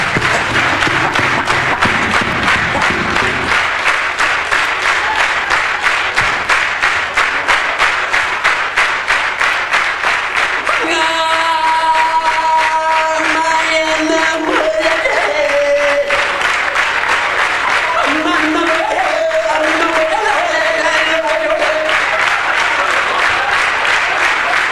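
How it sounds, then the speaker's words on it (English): Stand-up comedy audience clapping and applauding, a dense, steady wash of many hands that runs loud and unbroken throughout, with a few tonal music notes surfacing midway. "Come on, clap your hands"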